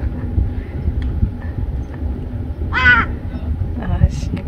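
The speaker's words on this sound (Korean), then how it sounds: "불길한데 까마귀 울고 막." A crow caws a couple of times in the distance on a hillside golf course, over a steady wind-blown outdoor background and nearby voices.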